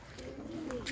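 Jalali pigeons cooing at a zoo, soft low repeated coos carried over steady background noise with a few brief higher chirps.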